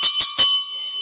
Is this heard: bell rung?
yes